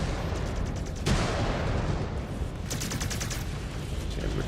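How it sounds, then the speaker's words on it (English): Autocannons in the mech combat game MechWarrior 5: Clans hammer out a dense, rumbling barrage of rapid shots with a few sharper bursts, loud and continuous, with no talk. "Stop hitting me with your auto cannons."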